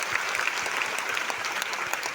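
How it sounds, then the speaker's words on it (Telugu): An audience at a New Year's Day religious gathering claps loudly in a dense, sustained burst of applause lasting the whole moment. "నమ్మిన వాళ్ళకి గట్టిగా చప్పట్లు కొడతారా?"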